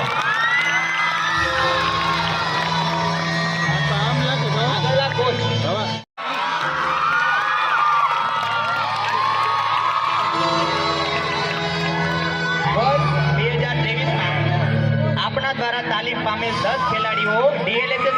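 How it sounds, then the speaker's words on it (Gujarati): A crowd at a sports awards ceremony cheers and shouts for the players without pause, loud and close, with a few excited whoops and a brief cutout partway through. "ખેલાડી ભાઈઓ તમને તાળીઓથી વધાવીએ"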